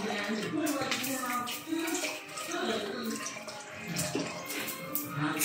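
Dishes are washed under running water at a sink, with a continuous splashing stream and clinks of handled plates, close by, and faint voices in the background.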